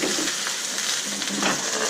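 Cheesy fish fingers fry in a pan on a pier, giving a steady, close sizzle and crackle with a few soft stirring clatters and no voices.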